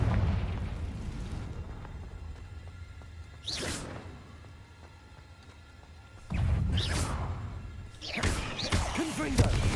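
Confringo fire spell blasts from a Harry Potter video game, two loud whooshing bursts that swell into explosive booms several seconds apart, with low rumbling between them.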